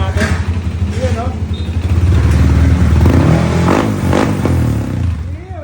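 A 232cc motorcycle engine runs through a temporary pipe, loud and close, with rough pulsing exhaust and revs that rise and fall, while someone talks over it.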